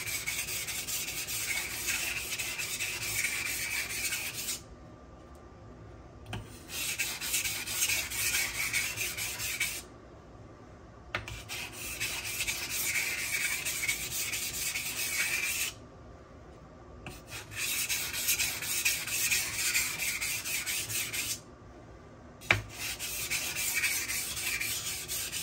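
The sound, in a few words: knife sharpening burr minimization passes on Buck Honemaster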